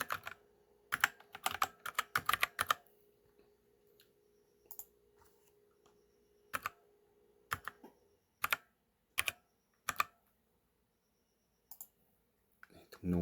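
Typing an email address on a computer keyboard, with sharp close clicks in quick bursts and scattered single keystrokes separated by quiet pauses, over a faint steady hum.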